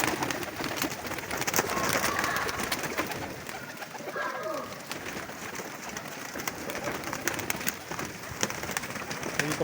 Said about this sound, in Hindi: माशाल्लाह कमाल कबूतर है